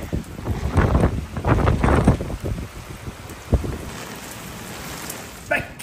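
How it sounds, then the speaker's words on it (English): Light rain on the Norwegian coast, a steady hiss of drops mixed with gusty wind buffeting the microphone, with a few heavier thumps in the first half and a quieter, even patter after. "Slightly raining."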